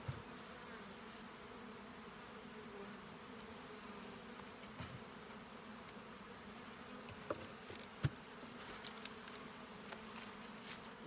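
A steady, low buzzing hum of many honey bees in a hive, a small wintered nuc colony, fills the clip, with a few faint clicks and brief bumps scattered through it.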